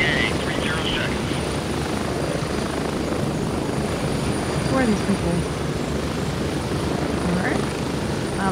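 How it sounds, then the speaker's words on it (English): A helicopter flies low overhead in the military shooter game Gray Zone Warfare, its steady, loud rotor and engine roar filling the whole stretch while players talk over it. "Wow, that helicopter just gave us a buzz cut."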